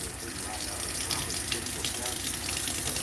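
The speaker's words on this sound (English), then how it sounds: "This is not where I would like to be washing my paintbrush" Cold tap water runs steadily into a sink as a paintbrush is rinsed under it, a constant close splashing gush with no speech.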